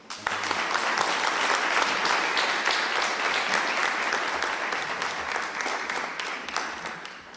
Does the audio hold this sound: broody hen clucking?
no